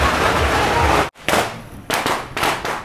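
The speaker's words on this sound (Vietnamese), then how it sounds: "Bên kia đốt pháo y xèo nữa kìa." Firecrackers burst in a loud crackling rattle during a Tet celebration, then a sudden silence, followed by several more close, sharp bursts of popping.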